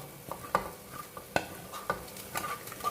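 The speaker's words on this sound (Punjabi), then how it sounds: "ਹੁਣ ਅਸੀਂ ਜਿਹੜਾ ਤੜਕਾ ਬਣਾਇਆ ਵਾ ਇਹਨੂੰ ਇਹਦੇ ਵਿੱਚ ਪਾ ਲੈਂਦੇ" Hot tempering poured into cooked pumpkin and chana dal, with a soft sizzle, several sharp clinks of a spoon and steady stirring, close and alone with no talk.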